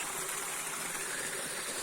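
A forest waterfall feeds a stream, giving a steady, unbroken rush of water that is close and loud, with no voices.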